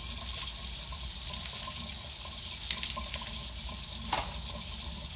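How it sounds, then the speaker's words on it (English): Cold water runs steadily from a kitchen tap while herbs are rinsed under it, a continuous close splashing rush with a couple of brief clatters and no voices. "run it under some cold water"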